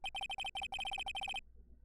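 A cell phone rings in Phoenix Wright: Ace Attorney with a rapid electronic trill, repeated bursts in an even rhythm lasting over a second, clear and with no voices.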